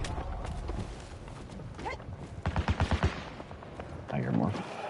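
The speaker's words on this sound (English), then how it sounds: "I hear more gunshots." Gunfire in the video game Battlefield 2042 comes as a rapid burst of several sharp shots midway, heard over a busy game soundscape with other background noise.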